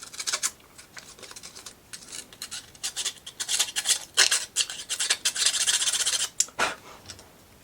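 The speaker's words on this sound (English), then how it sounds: "Got a burr on there, I'm not seeing." Small wooden book nook part being sanded by hand to remove a burr, irregular rasping strokes in short bursts, close and fairly loud, no speech.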